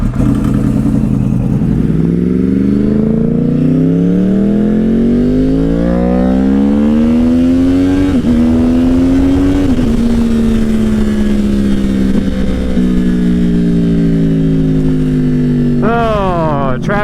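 A motorcycle rides out, its engine loud and close, rising and falling through the gears with steady throttle changes, wind rushing over the mic and a sharp rev near the end.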